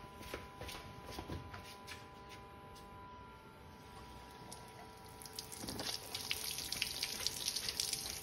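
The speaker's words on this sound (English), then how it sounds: "we're going to go and switch on our garden hose" Garden hose water running into earmuffs fitted on a Suzuki outboard motor, a faint steady rush and trickle that swells slightly toward the end, with no talk.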